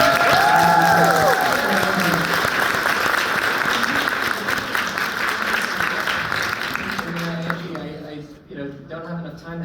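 A panel audience gives a loud, sustained round of applause with some cheering and crowd noise in a big hall, gradually thinning out; speech can be heard through it, and the clapping fades to scattered claps at the end.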